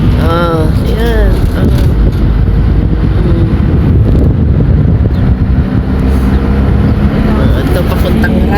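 Cool wind buffets the microphone in a steady, loud roar while travelling by vehicle to a Friday market in Buraydah, Saudi Arabia, with engine rumble beneath and a voice talking over it.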